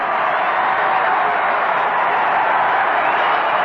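Record opening-day baseball crowd of 44,818 at Wrigley Field giving a standing ovation, heard as a steady, loud wash of cheering and applause filling the whole stretch.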